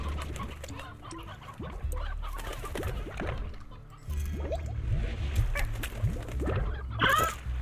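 In the Slime Rancher video game, an Elder Rooster clucks in scattered short calls over a steady low in-game hum, moderately loud with no talk.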